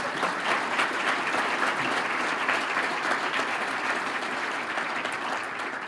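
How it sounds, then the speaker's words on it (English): Continuous, even applause from a State of the City 2025 audience in Midland honoring the mayor and city team, a full crowd clapping at steady volume without talk. "Let's give a round of applause again for our mayor and for the entire city team."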